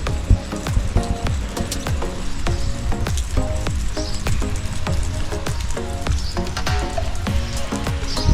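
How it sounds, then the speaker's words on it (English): Rain falls steadily on an outdoor yard on a wet morning, a dense continuous patter with scattered sharp drops hitting surfaces, loud and close, with no voices. "Been raining all morning"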